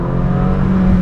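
A Ferrari 488 Pista engine at low speed in snowy weather gives a steady, loud, deep droning rumble with a firm low hum throughout, no voices.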